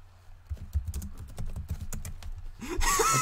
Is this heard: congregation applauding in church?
no